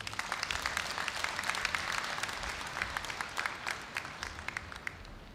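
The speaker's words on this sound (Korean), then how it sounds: "여러분 법인이사장님을 큰 박수로 맞이해 주십시오" An audience at the 2017 Korea University degree-conferral graduation ceremony gives steady, dense applause that fills the large hall and tapers slightly toward the end, with no talking over it.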